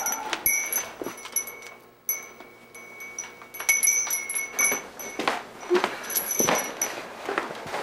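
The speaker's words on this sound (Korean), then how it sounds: "제가 풍경 소리를 좋아하거든요." A wind chime rings with bright, sustained metallic tones, struck repeatedly in a loose, uneven rhythm with overlapping ringing, close by and fairly loud.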